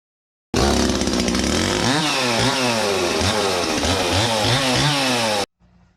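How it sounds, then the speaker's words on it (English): A chainsaw roars to life and runs loudly for several seconds, its engine pitch rising and dipping in repeated revs before cutting off abruptly. "you could always just use a chainsaw instead."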